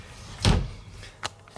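The inner door of a hotel room in Gibraltar closes with one loud, close thud, followed by a lighter knock and a small click as it settles.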